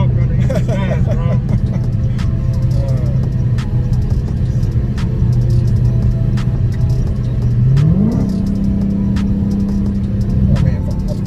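A Dodge Hellcat's engine drones steadily from inside the car during a ride, then rises in pitch as it revs, with voices talking over the constant rumble.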